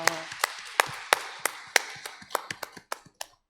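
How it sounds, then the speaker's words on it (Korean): A church congregation at a Wednesday Bible study claps in a steady, rhythmic beat of sharp, distinct hand claps that slow slightly and fade toward the end. "우리 하나님께 영광의 박수를 올려드리기를 원합니다."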